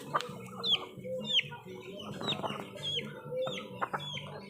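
Several chickens cluck and chirp nearby in an uneven back-and-forth, with short rising calls repeating over a low farmyard murmur.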